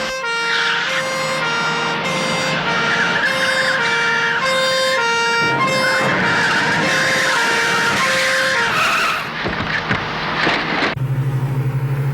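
A police car siren wails steadily as the vehicle passes through traffic, loud and continuous with a rising-falling tone, engine and road noise underneath, cutting off near the end to a low idling hum.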